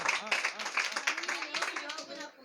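A church congregation keeps up steady rhythmic clapping beneath loud voices, the claps running fast and even throughout.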